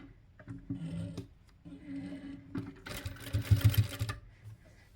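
A sewing machine stitches a homemade fabric doormat in short bursts of rapid mechanical whirring, stopping and restarting with light handling noises between runs, close and moderate in volume.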